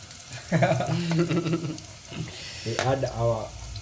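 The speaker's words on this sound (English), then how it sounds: "So our garlic and onions are cooking here." Garlic and onions fry in a pan for Kenyan chapati, a soft continuous sizzle with occasional stirring clatter beneath a person talking nearby.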